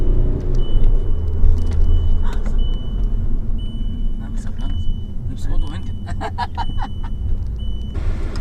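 Inside a Volkswagen Golf on a test drive, a steady low road and engine rumble continues while people talk, with a faint high electronic tone and scattered clicks.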